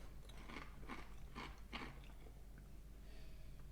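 Carolina Kettle Rosemary Garlic kettle chips being bitten and chewed, with about four loud, crisp crunches in steady rhythm close up, then quieter chewing.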